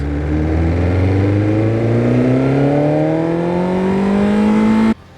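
A BMW S 1000 RR sportbike with a full carbon fiber BST swingarm rides off, its engine revving up steadily through a single long rising pull, loud and close, cutting off abruptly at the end.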